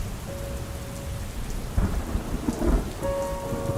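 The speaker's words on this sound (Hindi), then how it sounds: "देखें कितनी खूबसूरत बारिश हो रही है" Steady rain pours down through a storm while low thunder rumbles nearby partway through, the downpour continuous throughout with no voices.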